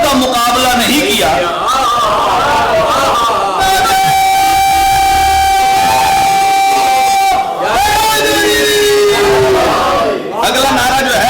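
Crowd at a religious majlis loudly chanting a slogan (nara) in unison, sustained voices rising and falling together in several bursts, close and filling the space.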